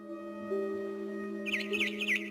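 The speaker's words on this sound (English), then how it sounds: "It was a barn swallow going back to her nest." Bright, repeated barn swallow chirps in quick bursts over a steady synthetic music drone in the video game What Remains of Edith Finch, starting partway through and recurring three or four times.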